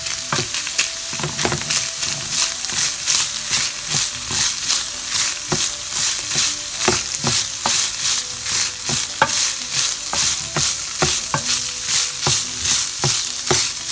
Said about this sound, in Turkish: güzelce kavuracağım